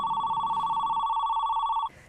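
A telephone ringing with a steady, electronic-sounding tone that holds for nearly two seconds and then cuts off abruptly. It is close and clear, with no talking.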